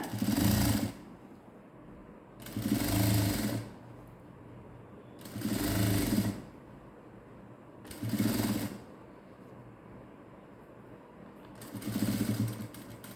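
A sewing machine stitching along a blouse neckline runs in five separate bursts of about a second each, loud and close, with quiet pauses between them and no talking.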